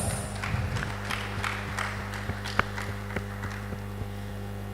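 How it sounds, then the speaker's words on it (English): Scattered claps from an audience at a conference session, faint and irregular over a steady low hum in a large hall, with one sharper clap standing out. "A round of applause"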